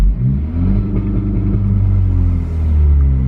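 A 10th-generation Honda Civic Si engine held on a two-step launch limiter around 3,000 rpm, a steady loud low rumbling idle-rev with slight pulsing, close and continuous without talk.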